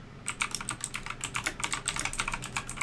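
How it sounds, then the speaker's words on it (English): Loud computer keyboard typing during an online game match, a rapid, irregular run of sharp clacking keystrokes close up and alone, with no talking. "Your keyboard is really loud."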